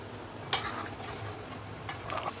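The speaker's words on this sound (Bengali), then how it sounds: "আলুটাও মশলার সাথে হালকা করে একটু নাড়িয়ে নেবো, কষিয়ে নেবো" Half-boiled potatoes are stirred with spices in a pan for chicken biryani, giving a quiet, steady sizzle with two brief scraping stirs of the spoon against the pan.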